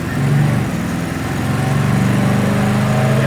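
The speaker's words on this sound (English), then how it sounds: "360's a good motor." A 1972 Dodge Scamp with a 360 V8 driving past, its engine a steady close rumble with a slight rise and dip in pitch. No talking, just the motor throughout.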